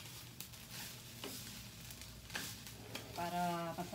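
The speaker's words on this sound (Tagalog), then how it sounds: "Haluin ko muna ho." Leftover-menudo fried rice is stirred in a hot pan, with a quiet steady sizzle and soft scraping strokes, plus a few louder scrape accents and a brief tonal whine near the end.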